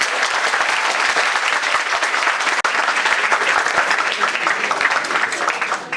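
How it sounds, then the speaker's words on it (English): Sustained audience applause at a literature festival, a dense, steady wash of many hands clapping throughout with a brief dropout midway. "all of you can please give him a big round of applause"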